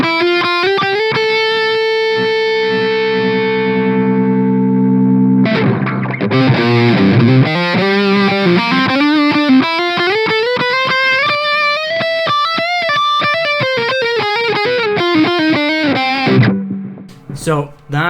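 A distorted electric guitar through a modelled amp with added room ambience sustains a held chord, then plays a run of bending notes that ring out into the room before stopping abruptly.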